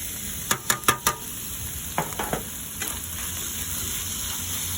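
Chicken with lemon and mushrooms goes back into a pan and is stirred, a steady quiet sizzle under a cluster of sharp utensil scrapes and clinks against the pan.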